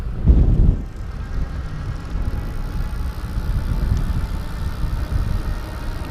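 A Populo Lift V2 electric bike with a 250 watt motor running on throttle alone at around 15 to 19 mph, giving a steady low hum and whir under wind rush, with a thump at the start.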